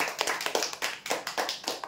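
Audience clapping at a weekly customer prize draw, greeting the last winner announced: a short burst of bright, uneven claps from a modest crowd, close and fairly loud, with no talk over it.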